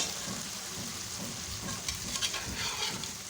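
Chicken sizzles while being stir-fried (bhuna) over medium heat on a tawa for Lahori tawa chicken, a steady soft crackle with scraping stirs toward the end, no voices.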